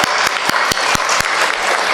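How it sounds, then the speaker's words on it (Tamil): Applause from the audience at a Tamil school's annual day celebration, a dense steady wash of clapping with sharp louder claps punctuating it at regular intervals, filling the whole moment without talk. "அந்த ஆசிரியர்களுக்கு எல்லாம் ஒரு கைதட்டு கொடுத்துடலாமா?"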